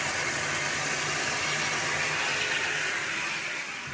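Water pumped during a fish tank water change gives a loud, steady rushing flow close by, continuous and without pauses, and no one speaks over it.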